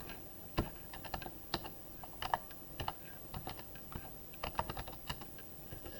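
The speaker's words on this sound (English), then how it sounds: "if I type in that exact date" Fingers typing on a computer keyboard, a close run of crisp irregular key clicks in quick bursts with short pauses, heard alone without voices.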